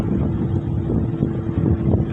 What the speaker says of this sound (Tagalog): Medyo mahangin dito.